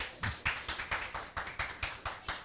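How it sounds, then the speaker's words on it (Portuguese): A small TV studio audience claps for a show guest in a brief, uneven burst of sharp hand claps, fairly close, with no talk over it. "Cadê as palmas pro Henrique?"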